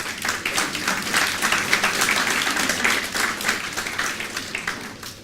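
A university lecture audience clapping, a lively burst of many hands that builds and then tapers off gradually.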